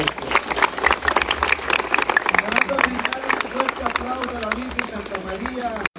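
A crowd claps and cheers outdoors at a village street-paving inauguration with a cumbia band, and the dense applause runs steadily under a speaking voice.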